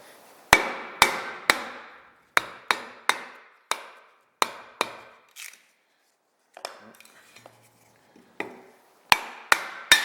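Hatchet chopping and splitting wood, a series of sharp, loud impacts in uneven bursts, several in quick succession, with a brief quiet stretch holding faint knocks before the chopping resumes.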